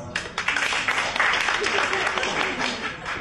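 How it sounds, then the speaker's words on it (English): A comedy club audience claps hands in a dense burst of applause that stays loud and busy throughout, with some crowd voices mixed underneath. "Clap your hands."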